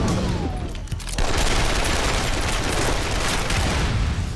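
Sustained heavy gunfire from a film action scene, dense rapid bursts and booms filling the whole stretch at high loudness.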